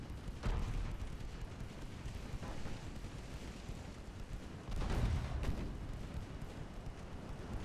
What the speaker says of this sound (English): There's a bow tube launch.